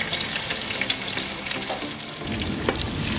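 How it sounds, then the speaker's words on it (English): Onions, scallions and peppers sizzle steadily in hot oil as aromatics for a nine-spice curry duck, a close, continuous frying hiss with a few stirring scrapes and no talk. "Now goes in my the other aromatics, which are onions, scallions and peppers."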